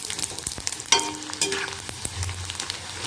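Pasta Manchurian pieces fry in a shallow layer of oil, giving soft intermittent crackles and sizzles with a few sharper clicks as they are moved in the pan. No voices are heard.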